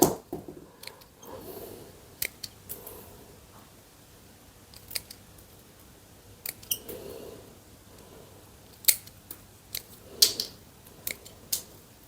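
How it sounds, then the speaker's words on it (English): Small scissors trimming the scion of a calamansi graft on a kaffir lime tree, a series of sharp close snips at irregular intervals, some in quick pairs, over a quiet background. "I'm actually just trimming the plant again, the scion"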